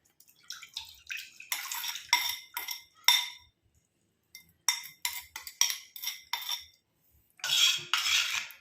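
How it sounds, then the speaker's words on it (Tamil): Ingredients dropped one after another into an iron kadai, each addition giving a bright metallic clatter and scrape, in separate bursts with short pauses between, close and fairly loud with no talking. "எல்லாத்தையுமே நம்ம இரும்பு கடாயில் வந்து ஆட் பண்ணிக்கலாம்"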